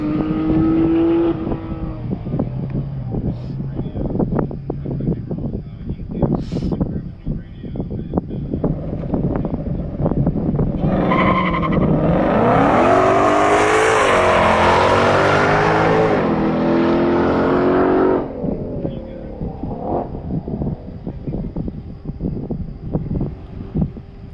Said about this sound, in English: And the GT3 just got the green